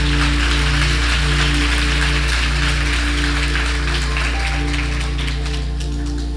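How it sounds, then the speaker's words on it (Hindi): A church congregation gives loud, sustained applause to welcome a sister during a sermon, a dense steady clatter of many hands that holds evenly throughout without a break. "सिस्टर नुदरत को आप एक बार फिर ज़ोरदार तालियों के साथ वेलकम करें"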